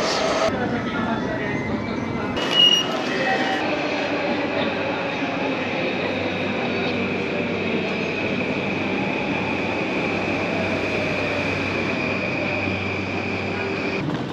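A steady rumble of a train in Japan rolling along rails fills the space, with a constant whining tone overhead and a brief clunk early on.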